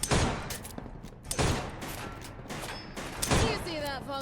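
Several sharp gunshot bursts from a service pistol in the video game Fallout London, loud and close, clustered at the start and middle amid game ambience, with a voice talking between shots.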